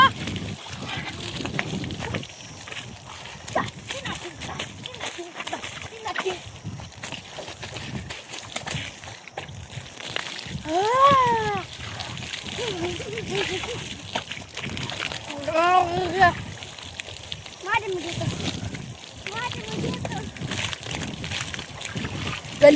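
People bathing at a borewell with a motor running, making scattered splashes and sloshing water while children and adults talk and shout nearby throughout.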